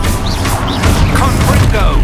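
A short burst from the Expulso blasting spell in the game Hogwarts Legacy: a loud, broadband crash and boom that fills the full two seconds with dense impact noise and layered game effects.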